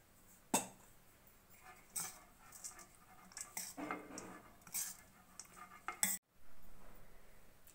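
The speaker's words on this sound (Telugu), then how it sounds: "తగినంత ఆయిల్ వేసుకొని ఇప్పుడు అన్నం కలుపుకుందాము" Cooked rice is mixed with oil and salt in a vessel for amla pulihora, giving faint, scattered clinks and soft scraping knocks in a quiet room.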